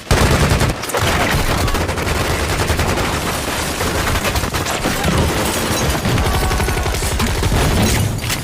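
Heavy gunfire in a Triad shootout around a hut, a dense, continuous barrage of rapid shots, loud and close, with a brief lull near the start before the firing resumes nonstop.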